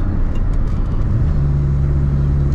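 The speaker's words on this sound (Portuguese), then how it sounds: "Esse carro tá fazendo bastante barulho também, porque tá com escapamento esportivo." Volkswagen Gol G2 with a sport exhaust idles and rumbles loudly up close, a deep throaty engine note that swells slightly as revs rise, with no talking.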